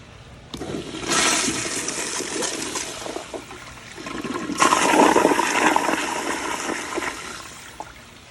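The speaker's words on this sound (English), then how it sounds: "So I'm gonna flush it." A Kohler Kingston WaterGuard 1.6-gallon toilet with a diaphragm valve flushes loudly and close, a strong rushing whoosh that swells again midway before settling into refilling water.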